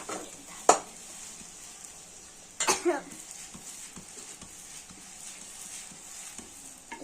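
Okra (vendakai) sabji sizzles steadily in a hot pan, with two sharp clattering scrapes as the vegetables are turned and pressed down with a spatula, close and without talk.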